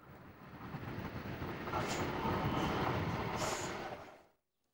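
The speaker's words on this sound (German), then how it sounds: "Die Ausfahrt eines modernen DSB-Zuges des Typs IC3" A Danish DSB IC3 train departs with a broad, steady roar that builds and then fades out abruptly. Brief high squeals appear near the peak.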